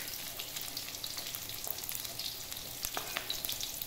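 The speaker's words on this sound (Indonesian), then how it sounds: "Tumis bawang putih dan bawang merah." Garlic and shallots sizzle steadily in a hot pan for bitter melon stir-fry, a continuous bright frying hiss with occasional soft stirring clicks, close and even throughout.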